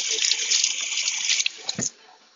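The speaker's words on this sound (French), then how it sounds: "Donc je le rince." A kitchen tap runs water over chunks of pumpkin-type squash as they are rinsed for a Moroccan lamb and vegetable couscous. The close, steady hiss of splashing water lasts nearly two seconds, then stops abruptly.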